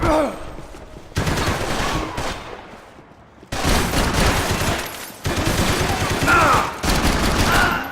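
Heavy gunfire fills a firefight in the video game Max Payne 3, with dense bursts of automatic shots and explosions coming in waves and short lulls between them.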